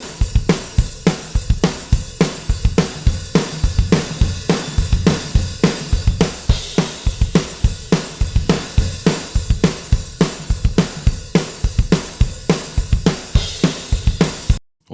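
Drums captured through blended room mics at Energy Studios in LA, uncompressed: steady, hard-hitting kick and snare hits in a fast driving rhythm with roomy cymbal wash, loud and dense throughout, no talking.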